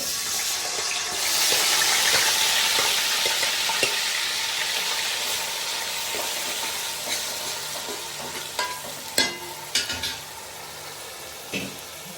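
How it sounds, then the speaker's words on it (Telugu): Onion paste fries in a pan for fish curry with a steady, close sizzle, broken by occasional scraping and stirring knocks toward the end. "ఉల్లిపాయ పేస్ట్ అయితే వేసుకుంటున్నాను నేను ఇందులో"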